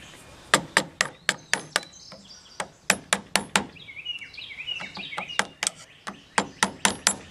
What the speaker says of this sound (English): And you wiggle it off with a screwdriver.